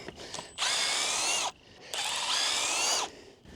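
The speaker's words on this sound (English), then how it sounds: "Let's go ahead and remove all these screws." A power drill backs screws out of a garden fence in two sustained whirring bursts of about a second each, close and loud, separated by a brief pause.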